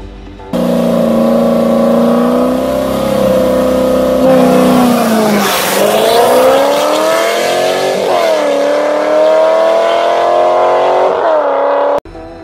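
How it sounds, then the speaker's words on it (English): A 1990s car with a 345-horsepower LS1 V8 engine accelerates hard, its loud, close engine note climbing steadily in pitch with brief dips at gear changes, running continuously for about eleven seconds. "Under the hood is the LS1 V8 engine that produces 345 horsepower and 350 pound-feet of torque."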